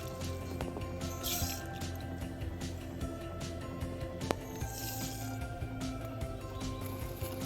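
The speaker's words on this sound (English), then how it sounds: "Now we're mixing the water, the vinegar, the sugar, salt, and mustard seeds together." Water, vinegar, sugar, salt and mustard seeds for pickling spruce tips are stirred together, giving faint liquid sloshes and small drips with a few light clinks against the container, quiet and close.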